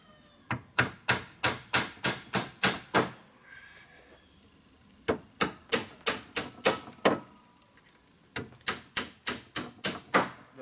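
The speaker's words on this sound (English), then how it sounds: "Now I'm down to just nailing." A hammer drives nails into the wooden boards of a picket fence gate, sharp, close blows struck in fast, even bursts of about eight to ten, separated by short pauses.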